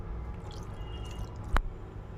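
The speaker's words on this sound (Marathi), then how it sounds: "आता त्याच्यावर मी झाकण ठेवते" A lid is set down on a pot of clams cooking in their own juices for a spicy dry seafood dish, giving one sharp clack against low, steady kitchen noise.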